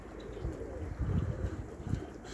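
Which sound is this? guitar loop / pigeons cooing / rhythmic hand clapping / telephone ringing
pigeons cooing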